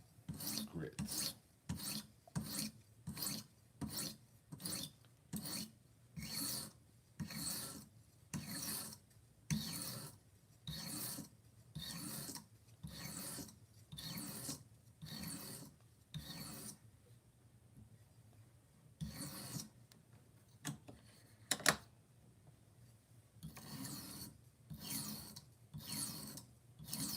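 Steady, even strokes of a kitchen knife drawn across a sharpening stone, about one rasping pass per second, close and clear, with a short pause partway through before the rhythm resumes.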